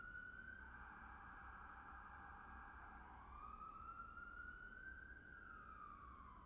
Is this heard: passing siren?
yes